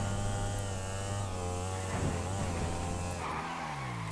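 A motorbike engine whines steadily in a transforming-vehicle racing video game, a sustained droning buzz with shifting pitch sweeps and a scrape partway through.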